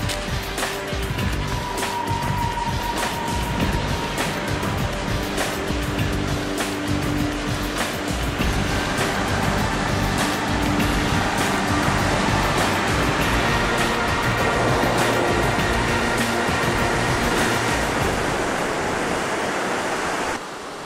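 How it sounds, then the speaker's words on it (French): Ocean waves break continuously on Playa Avellana, a surf beach in Costa Rica, a steady full roar of surf with no voices over it. "Cette plage est réputée pour ses vagues."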